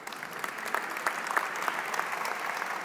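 An audience at a justice panel claps for the moderator, producing a continuous, moderately loud patter of applause that holds steady from start to finish.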